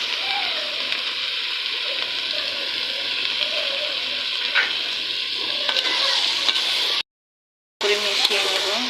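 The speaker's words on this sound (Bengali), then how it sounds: "মিশিয়ে নেব ভালো করে, চালটাকে ভেজে নেব।" Rice stir-fried with cumin paste and garam masala paste for bhuna khichuri sizzles in a steady, loud, continuous hiss, with a brief gap near the end.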